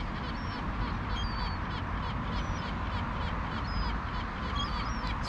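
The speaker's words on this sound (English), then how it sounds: "But the storm gull's going after the crows." Storm gull chasing crows at a seaside feeding spot with silver gulls, harsh caws and squawking calls ringing out repeatedly over a constant rushing outdoor background.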